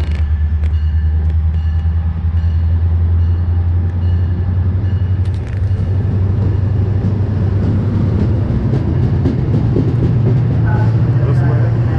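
An Amtrak double-decker train pulls away from Halethorpe station with a deep, steady low rumble and scattered clanks, heard close by with voices talking over it.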